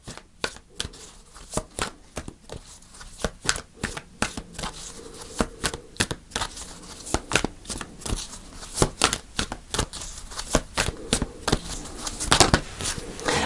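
A deck of tarot cards being shuffled during a card reading, a steady run of crisp riffling and slapping taps close by, with no talking.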